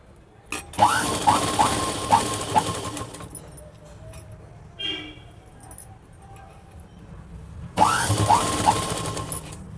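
A sewing machine stitches along the edge of a child's petticoat in two bursts of fast, rattling stitching, separated by a quieter stretch with faint handling sounds.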